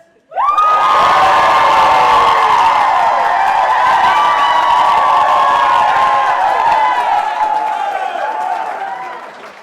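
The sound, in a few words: wedding guests shouting and cheering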